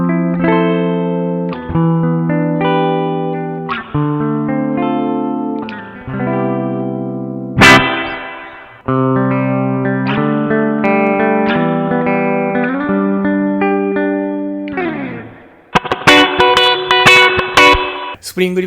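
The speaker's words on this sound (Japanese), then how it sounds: "スプリングリバーブの音をこのデジタルで再現した音があります。" Electric guitar played through a BOSS RV-6 digital reverb pedal set to spring mode, chords and picked notes ringing with short, splashy spring-style tails, loud and close, ending with a brighter burst of strummed, twangy hits.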